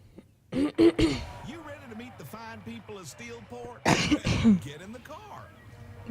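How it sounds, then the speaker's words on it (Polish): Coughing and throat clearing from a woman who is sick, breaking up her Polish speech while she plays a video game, with a couple of loud bursts near the start and again in the middle. "Przepraszam bardzo za uh, mój kaszel"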